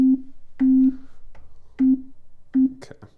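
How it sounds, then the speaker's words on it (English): A sine wave from a Korg Electribe Sampler 2 synthesizer plays as four short, steady low tones in an even rhythm, each followed by faint decaying clicks and blips, with no talking. "sine wave."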